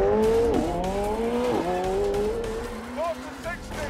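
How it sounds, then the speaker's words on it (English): A McLaren Senna launches hard at full throttle, its engine note climbing loud and close through quick upshifts with brief dips between gears, while someone talks over it. "Push launch. Full throttle. Boost building. Boost ready. We're gone."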